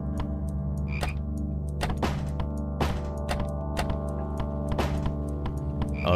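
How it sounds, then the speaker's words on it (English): A large frog croaks in a video game, repeated low croaks over steady tonal game music with periodic thunks, moderately loud and without talk. "there's that big frog"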